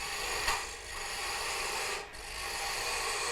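Steady close rasp of a skew chisel's point cutting wood on a spinning lathe, a continuous shaving hiss with brief dips in pressure.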